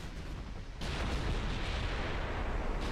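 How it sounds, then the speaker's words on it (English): A torpedo detonates aboard an enemy battleship in the naval game Ultimate Admiral Dreadnoughts: a quieter rumble gives way to a sudden loud, sustained roaring blast that fills the rest of the moment, with no talk. "Torpedo detonation."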